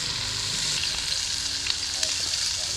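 Chopped onion and other veggies, salsa and cream cheese sizzle in a pan over a campfire, a loud, steady frying hiss with small pops and crackles throughout, heard up close with no talk.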